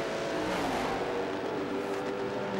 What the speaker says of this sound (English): You can hear him now. He too is on the rev limiter.